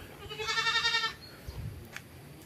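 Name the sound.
goat bleating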